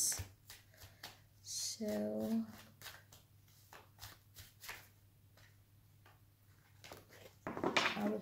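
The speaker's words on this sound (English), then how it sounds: "I will shuffle it one more time." Oracle cards shuffled by hand in a quiet room, a brief burst of papery riffling near the start and another at the end, with soft talking and tapping between.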